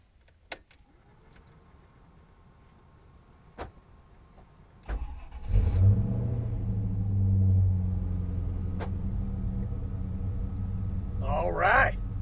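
A car with a supercharged engine on a mountain road trip: clicks and thumps, then the engine starts and runs with a steady low drone, with a voice speaking briefly near the end.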